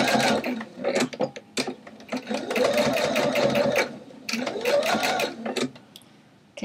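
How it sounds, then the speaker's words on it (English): Domestic sewing machine stitching a rolled hem on fabric from a refashioned skirt, running in several whirring bursts with brief pauses between them, close and steady. "continue rolling your hem and stitching as you go"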